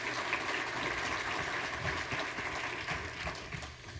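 An audience at a legislative panel on open data laws claps steadily, a dense wash of hand claps filling the room, slowly thinning toward the end.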